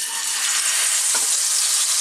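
Fish frying in a pan of hot oil, a steady loud broadband sizzle throughout with a brief thump partway in, no talking.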